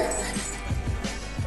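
A woman imitates a dog with short yips, whimpers and barking sounds, close and fairly loud over a noisy indoor background.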